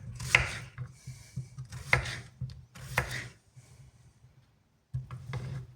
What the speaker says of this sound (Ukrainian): Беремо огірочок. Я його теж так поріжу.